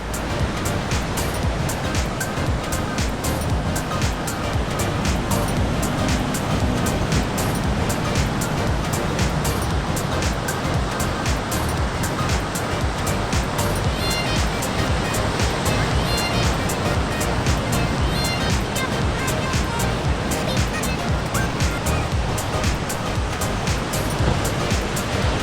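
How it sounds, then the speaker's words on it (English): Surf breaking at Warriewood Beach near Sydney on a clear day, a loud, continuous wash of waves rolling in without pause, with wind noise and no talking. "So here we are at Warriewood Beach. Beautiful day, beautiful surf."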